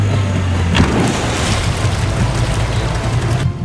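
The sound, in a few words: boat running on water-jet motor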